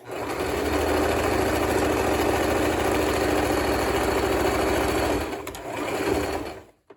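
A sewing machine runs steadily, stitching a festive fabric banner at a constant hum for about five seconds, then stops briefly and starts again in a short final burst.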